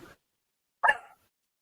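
A little puppy gives a single short, sharp bark, close and clear, after a brief faint sound at the start, then silence.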